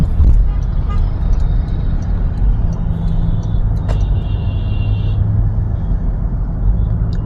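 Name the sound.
car driving in city traffic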